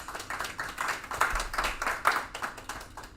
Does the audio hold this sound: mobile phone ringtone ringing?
no